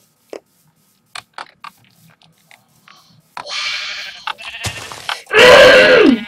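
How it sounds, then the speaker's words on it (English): Scattered soft clicks and a rush of Minecraft game noise, then a loud, wavering sheep bleat near the end. "I'm gonna go kill some sheep because I need a bed."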